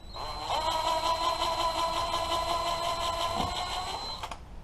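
Impact wrench with a 22 socket backing out a wheel nut on a 1983 Honda Shadow 750 motorcycle, a steady close high motor whine held for about four seconds before cutting off.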